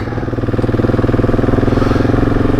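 A motorcycle engine on a mountain trail of the Trans Euro Trail in Spain runs close and steady, its rapid, even firing pulses throbbing loudly throughout with no talk over it.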